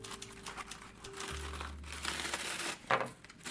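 Sheet of paper crinkled and crushed by hand while being threaded onto string like beads for a paper caterpillar craft; continuous close rustling and crackling with a brief low thump, no talk.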